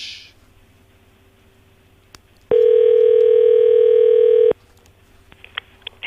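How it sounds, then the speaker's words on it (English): An outgoing telephone call rings back with a single loud, steady electronic tone lasting about two seconds, alone over a low background hum, clear and close. "The phone is ringing."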